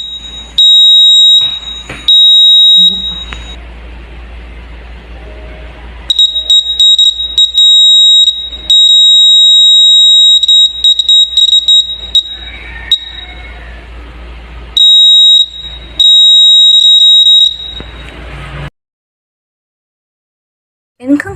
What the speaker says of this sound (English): our project security alarm using Arduino and ultrasonic sensor